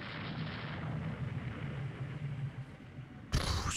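Ship combat in the naval strategy game Rule the Waves II, where a torpedo strikes a warship and sets off a low rumbling explosion. A sharp, louder burst of impact noise follows near the end. No one talks over it.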